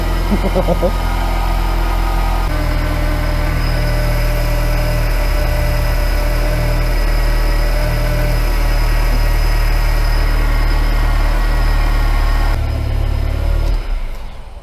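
A Mini Cooper S track car engine runs at a steady idle up close, a loud continuous drone with one brief rev near the start, fading at the very end; a voice talks briefly.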